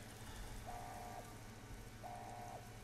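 The ED-E robot companion in Fallout New Vegas gives two evenly spaced, sustained electronic beeps, each about half a second long, over a constant background rumble like rain.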